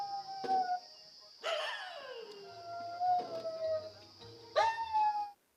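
A person inside a vehicle imitates a dog howling, giving several drawn-out wavering howls with short whimpering yips between them, close and fairly quiet, with the last howl rising sharply near the end.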